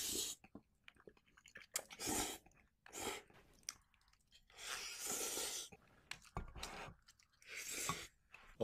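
Someone eats Ukrainian-style ramen up close, with bursts of crunchy chewing and biting, soft slurps and breaths between them, and quiet pauses in between.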